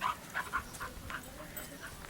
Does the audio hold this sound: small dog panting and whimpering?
yes